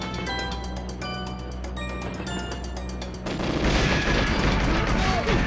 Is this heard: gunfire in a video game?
yes